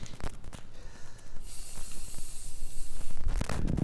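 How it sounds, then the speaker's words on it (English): Spray paint can hissing as black paint is applied to parts of a competition-sized foosball coffee table; close, steady bursts of hiss, strongest in the middle and near the end, with no talking. "So I'm doing a quick little spray paint job"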